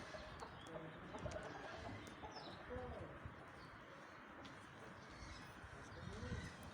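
Aseel chickens and chicks clucking and cooing softly amid a dense, busy background of farmyard noise, with voices murmuring nearby throughout.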